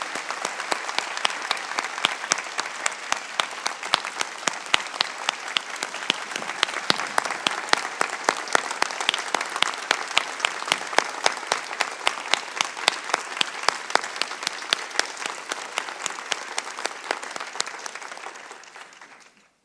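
An audience at an investiture applauds two pioneers, sustained dense clapping from a large crowd that holds steady for close to twenty seconds before fading out.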